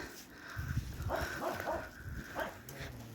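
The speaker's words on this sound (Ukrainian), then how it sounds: "собака собі гавка проситься, щоб, щоб до нього кинули, щоб йому вже снідать дали" A dog barks several times in a snowy morning yard, a few moderate, mid-distance barks and whimpers spread across a few seconds over faint background noise.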